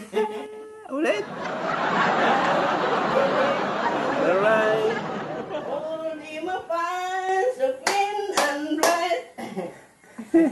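Hands clapping along to a children's song about clean hands, sung by a grandparent teacher with her grandchildren at home; a steady run of close claps mixes with children's giggles and singing voices, then fades into sung phrases.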